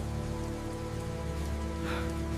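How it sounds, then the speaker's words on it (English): Heavy rain pours down in a dense, steady roar that stays constant and loud throughout. "The rain hammered down like God's own judgment, soaking through Ethan's flannel shirt"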